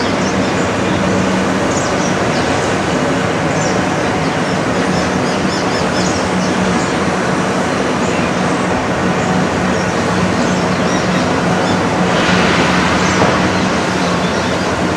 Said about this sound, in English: recording of the train passing by Farias Resort,